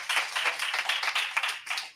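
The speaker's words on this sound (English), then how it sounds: "Let's give him a hand clap tonight." Audience hand clapping at a civic affairs summit welcoming a vice president, a dense burst of claps lasting about two seconds with no speech over it.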